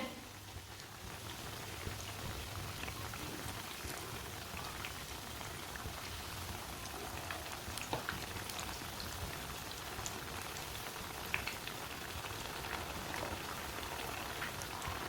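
Tikki patties fry in a pan on a raised flame with a steady, faint sizzle and crackle that runs evenly throughout, and no talk.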